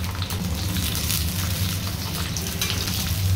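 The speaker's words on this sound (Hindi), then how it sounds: "यहाँ हमारा तेल गर्म हो गया है तो यहाँ डाल देंगे" Chopped capsicum fries in hot oil for a potato and capsicum curry, a loud continuous hiss and crackle heard close by and without any voices.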